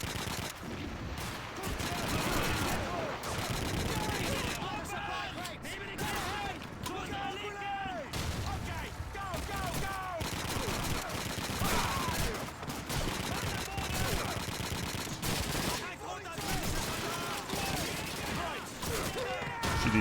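Dense gunfire from Call of Duty 2 (2005) in a village battle, rapid overlapping rifle and machine-gun bursts running continuously and loudly throughout, with a voice talking over the shooting.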